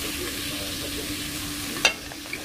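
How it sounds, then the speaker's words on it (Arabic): Zucchini sizzling in a pan for shawarma with vegetables, a steady low fry with a sharp stir scrape near the end and a second faint clink after. "احط بقى الكوسه."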